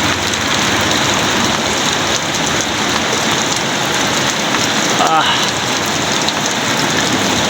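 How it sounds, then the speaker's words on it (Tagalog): Heavy rain pouring steadily at a boat repair site, a dense unbroken hiss of drops hitting surfaces, loud and close throughout with no talk. "Huminto kami sa pagtatrabaho kasi lakas ng ulan."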